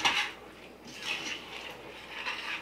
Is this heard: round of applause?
no